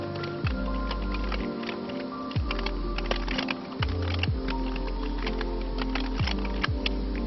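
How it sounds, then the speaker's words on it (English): Rapid typing on a computer keyboard, a steady stream of small clicks with occasional heavier thumps, close and fairly quiet, no talking. "so now I have to type in the entire thing."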